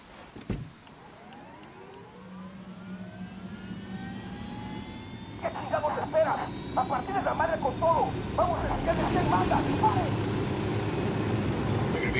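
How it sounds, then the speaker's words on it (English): Enemy helicopter in the Ghost Recon Wildlands video game, a steady rotor and engine drone that builds gradually over the whole stretch, with a player talking over it in the second half. "Take the helicopter down."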